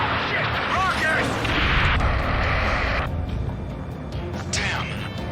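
Rocket explosion in the Ace Combat 7 combat flight game, heavy rumbling blasts and crackling debris rolling over continuous battle noise, with voices shouting over the radio through it.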